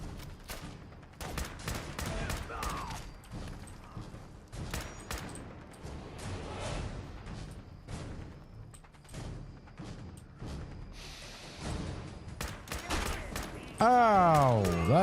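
Harpoon gun and other weapons firing in a Fallout 4 multiplayer match, a dense barrage of thumping shots and impacts running throughout, with a voice talking over the gunfire.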